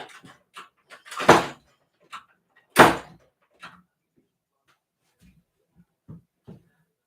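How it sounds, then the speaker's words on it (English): An old door is slammed shut twice, two loud sharp bangs about a second and a half apart, with quieter knocks and shuffling around them and a few faint rattles afterward. "I got to get up and close this old door."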